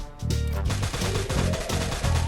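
Rapid bursts of automatic gunfire from a battle royale shooter game with four players left, loud and close, with repeated volleys in quick rhythm.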